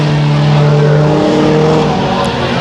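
Race cars roar around the track at Brownstown Speedway under green-flag racing, a loud continuous engine drone with revving that stays close throughout, and faint speech mixed in.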